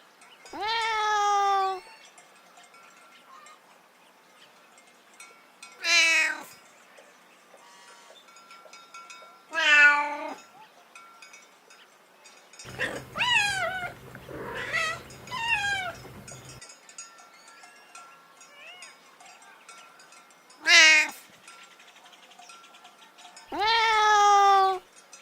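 A domestic cat meows about six times in separate, well-spaced calls over roughly 25 seconds, each loud and close, some drawn out and rising, others short, with near silence between them.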